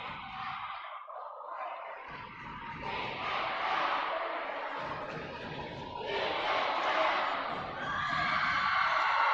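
A basketball crowd at a PIAA district playoff game between York Country Day and Greenwood swells into loud cheering and yelling, a dense roar that echoes through the gym and builds louder over several seconds.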